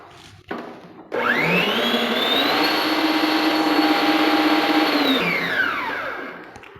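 A stand mixer beats cake batter in a steady, loud whir that starts abruptly after a brief knock, holds an even pitch for several seconds, then winds down as the motor slows.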